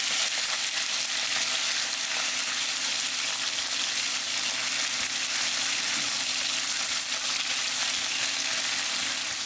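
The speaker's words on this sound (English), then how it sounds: "we're going to start off by frying up the chicken first" Chicken frying in oil in a smoking hot pan, a loud dense continuous sizzle and crackle that holds steady throughout, close up and alone with no voices.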